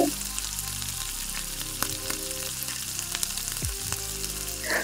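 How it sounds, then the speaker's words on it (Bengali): Battered KFC-style chicken pieces fry in hot oil over a medium-low flame. The sizzle is loud and steady close by, with the odd pop and crackle throughout. "মিডিয়াম লো গ্যাসটা রেখে এক এক করে চিকেনগুলোকে ভাজতে থাকবেন।"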